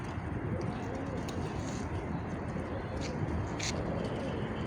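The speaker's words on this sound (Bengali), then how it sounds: "প্রচুর কবুতর এই জায়গায়, অনেক।" Hundreds of pigeons coo in Mecca, soft burbling calls over a dense, steady wash of outdoor crowd and traffic noise, with voices mixed in.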